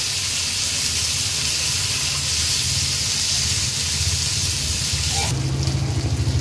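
Pomfret coated in rava frying in hot oil, a steady loud hiss and sizzle throughout that shifts in tone near the end as the pan is disturbed.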